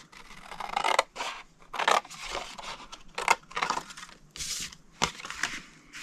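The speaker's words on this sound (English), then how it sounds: "cut it to the second score line, and take these 2 rectangles off." Scissors cut cardstock along a score line for a paper treat box, giving a series of separate crisp snips and scraping crunches close by, roughly one every second.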